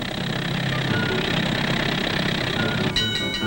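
Traffic on a crowded city street makes a steady, dense engine rumble with idling motors, continuous and fairly loud throughout, and a brief sharper mechanical note near the end.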